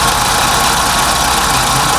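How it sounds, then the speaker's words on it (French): A Scorpio car engine idling after new spark plugs are fitted, a steady, loud, even running drone held close and unbroken, with no voices. "Le moteur a l'air de tourner nettement mieux."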